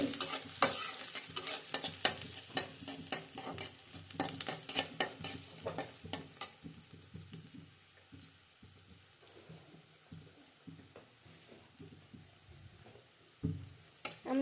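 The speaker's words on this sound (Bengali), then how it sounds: "আবার একটু নাড়াচাড়া দিয়ে নেব।" Food stirred in a pan of hot mustard oil, a soft, low sizzle under repeated scraping strokes that come in busy bursts early on and thin out to occasional scrapes later.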